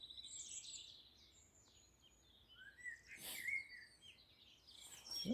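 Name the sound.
Robin and wren singing in dawn chorus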